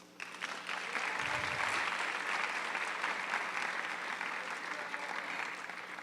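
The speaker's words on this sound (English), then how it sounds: "So applause for them." Audience applause for parents at a student scholars ceremony, a steady dense roar of clapping that holds evenly for the whole stretch without letting up.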